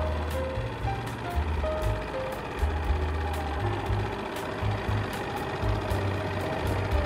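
Yamaha 2.5 HP four-stroke outboard motor idling on the water, a steady low putter with a faint rhythmic pulsing throb, close and continuous.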